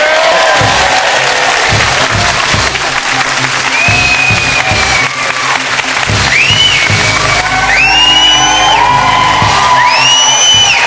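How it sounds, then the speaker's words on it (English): A studio audience breaks into loud, sustained applause mixed with whoops and cheering for boxer Ricky Hatton, filling the whole stretch close and dense with shouts rising over the clapping. "Round of applause for Ricky Hatton."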